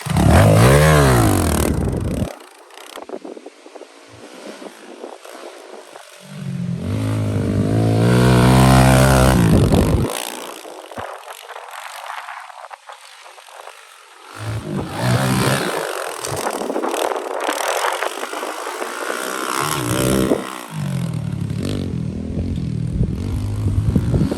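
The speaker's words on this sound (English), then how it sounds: "Had another fun pit bike session." Pit bike engine revving hard and loud nearby in repeated surges, rising and falling with clattering mechanical noise between throttle bursts and brief quieter idle gaps.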